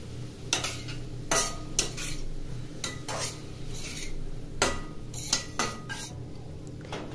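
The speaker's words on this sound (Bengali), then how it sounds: "হলুদটা টমেটো আর পেঁয়াজের সাথে মিশিয়ে নিচ্ছি" A spoon stirs turmeric into tomatoes and onions in a pan, with repeated metallic scrapes and clinks against the pan over a faint background hum; no speech.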